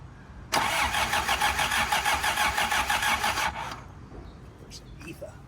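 An abandoned Toyota TE72 liftback engine cranks slowly under the starter, a loud, even, rhythmic churn lasting about three seconds before cutting off into a quiet background.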